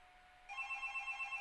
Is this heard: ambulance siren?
no